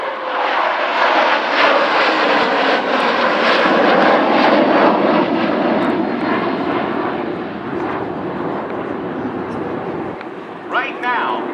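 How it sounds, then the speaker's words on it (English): An F-16 Fighting Falcon with Pratt & Whitney engine makes a flyby at the 2012 Vectren-Dayton Air Show, a loud sustained roar that swells and slowly fades, with an announcer's voice heard over it. "it's the F-16 Fighting Falcon."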